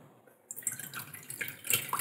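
Water poured over a portable Tefal Express induction cooktop, a splashing, trickling pour that starts abruptly after a brief quiet moment and continues with irregular drips and splatters at close range.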